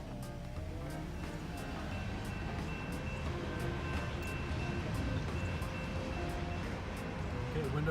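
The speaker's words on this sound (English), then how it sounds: "Okay, windows open, you hear the train." A train rumbling past, heard from inside a Lexus LS430 with the windows down, forms a steady broadband roar throughout, with faint tonal hums and rattling.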